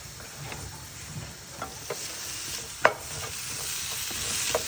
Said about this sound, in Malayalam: ഒരു ലേശം ഒലിവ് ഓയിലും കുറച്ച് ബട്ടറും ഒരു പാനിൽ ആഡ് ചെയ്യുക പിന്നെ അതിലേക്ക് ബാക്കി ഉണ്ടായിരുന്ന മഷ്റൂം നമുക്ക് ആ പാനിലേക്ക് ആഡ് ചെയ്ത് കൊടുക്കാം